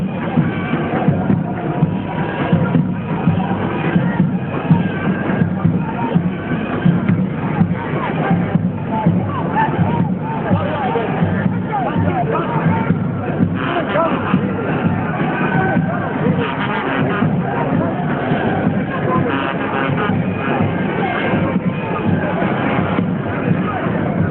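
A large outdoor crowd gathers for a traditional procession of men and horses at a royal installation in Bauchi, producing a steady, dense hubbub of distant voices and shuffling that continues evenly throughout.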